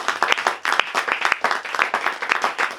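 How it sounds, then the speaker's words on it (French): A church congregation cheers and claps in praise of Jesus Christ during an evening worship service, with dense, steady applause and scattered shouts filling the room throughout. "acclame encore pour le Seigneur Jésus-Christ"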